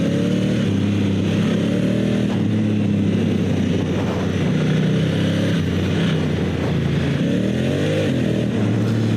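A dual sport motorcycle on Shinko E-804/E-805 Crossfly tires accelerates hard out of a gravelly corner, its engine droning loud and steady with rising and falling revs throughout.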